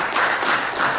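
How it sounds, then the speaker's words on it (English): A short burst of steady hand clapping from a crowd, dense and fairly loud, with no voices over it. "please just give her applause for just even being up here"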